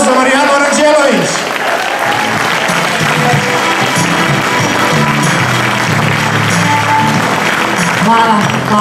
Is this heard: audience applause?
yes